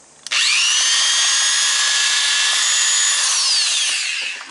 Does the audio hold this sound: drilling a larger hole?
yes